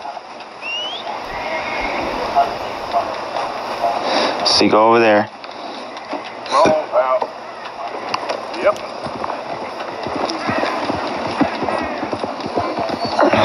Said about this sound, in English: let me call my horse over here.